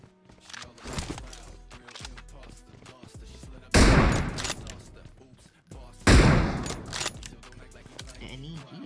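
Gunfire rings out in the battle royale game BGMI, with bursts of shots and two loud blasts amid footsteps and clattering, while someone talks over the action.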